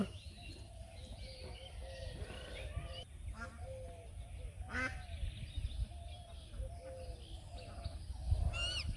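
Ducks quack repeatedly in short nasal calls as they head into the water, moderately near, over a busy outdoor background with a low rumble and scattered voices.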